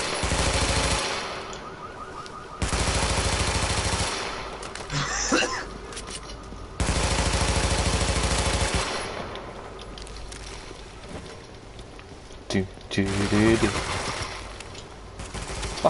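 Automatic gunfire in the shooter game Tom Clancy's The Division comes in long, loud bursts separated by short pauses, with voices talking between and over the shooting.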